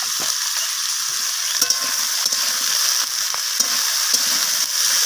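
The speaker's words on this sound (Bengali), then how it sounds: "এরপর সব কিছু মশলা আমি সবজির সাথে মিশিয়ে নিয়ে এইভাবে নাড়াচাড়া করে কষিয়ে নিচ্ছি" Vegetables tossed with chilli powder, cumin powder and other spices frying in a pan make a loud, continuous close-up sizzle, broken by brief clacks and scrapes of a spatula stirring.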